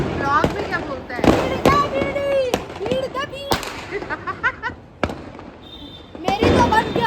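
A bidi bomb firecracker goes off near people outdoors. Several sharp, loud cracks ring out among excited voices and overlapping chatter.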